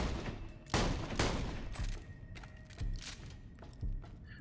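A Jakobs shotgun in Borderlands The Pre-Sequel fires in rapid succession, around eight or nine loud, sharp blasts in quick, slightly uneven rhythm, each followed by a short decaying tail.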